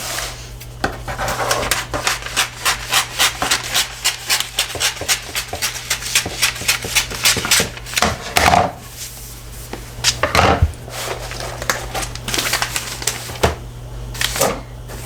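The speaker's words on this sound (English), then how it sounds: "I'm just going to cut straight down because there's plenty of paper." Scissors cut straight down through holiday wrapping paper in a long run of quick, crisp, close snips and crinkles with a fairly regular rhythm, no talking.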